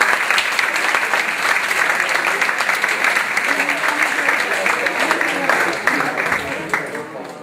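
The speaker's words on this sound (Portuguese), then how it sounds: "Uma salva de palmas" Sustained round of applause from an audience at a young philosophers' colloquium at a school event, dense steady clapping throughout, tapering slightly at the end.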